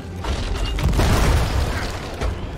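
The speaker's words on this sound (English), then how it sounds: "Guess we're back to shooting cannons." Heavy booming ship cannon blasts and rumbling over a dense wash of pirate-themed video game battle noise, loud and continuous.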